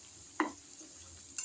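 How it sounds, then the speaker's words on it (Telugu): Chicken fries in a pan for biryani curry under a soft, continuous sizzle, broken by a sharp stirring clink early on and another light scrape near the end. "చికెన్ ఒకసారి ఫ్రై చేస్తున్నా"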